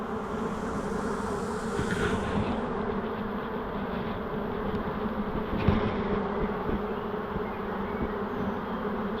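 A honey bee swarm being removed from a bridal boutique fills the air with a continuous, dense buzzing drone, steady and close throughout, with a faint knock partway through and no talking.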